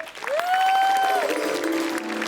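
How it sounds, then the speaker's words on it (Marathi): Studio audience clapping at a comedy show taping, brief and steady, overlaid by a rising then gliding musical tone. "एकदा जोरदार टाळ्या झाला पाहिजेत."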